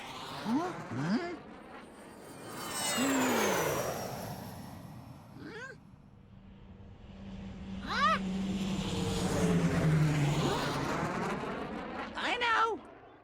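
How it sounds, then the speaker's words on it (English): An animated airplane flies past in a toddler's first-words cartoon, heard as a soft broadband whoosh that swells and fades twice, with a low hum in the middle, under playful vocal sounds. "Airplane!"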